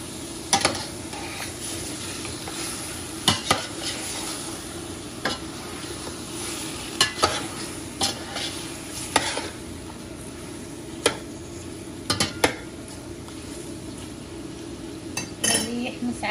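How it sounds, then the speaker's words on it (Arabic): Onions and spices being stirred and fried in a pot for lentil and chicken stew, with a steady sizzle under scattered clinks and scrapes of a spoon against the metal, close and continuous. "خليه يعني ياخذ حمسه بالبهارات بالبصل"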